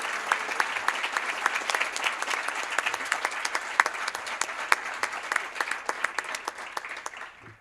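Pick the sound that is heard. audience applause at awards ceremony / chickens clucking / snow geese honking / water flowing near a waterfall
audience applause at awards ceremony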